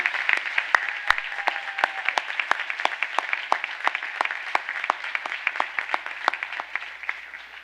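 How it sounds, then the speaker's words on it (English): Applause for honorees and student speakers at a high school rededication ceremony, with many distinct sharp individual claps standing out over a steady background of clapping. "Please join me again giving a round of applause for all our honorees and the student speakers"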